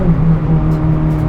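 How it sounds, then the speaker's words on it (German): A Honda Civic Type R FN2 on the Nordschleife drones loud and close as it runs at high revs past the VTEC changeover, a steady strong engine tone with no talk. "wenn du einmal über diese VTEC-Schwelle drüber bist, dann marschiert er richtig gut"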